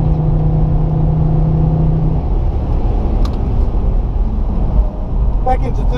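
A Holden Commodore Motorsport Edition on track at Phillip Island braking hard from 180 km/h into turn one, engine drone and road rumble easing off as speed is shed, heard from inside the car.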